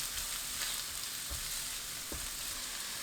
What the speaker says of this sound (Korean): 올리브유 2큰술, 다진 마늘 반 큰술, 양파 넣고 30초 볶아주세요